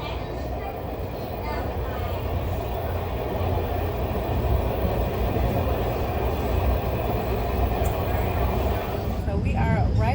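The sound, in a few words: train ride on the way to the airport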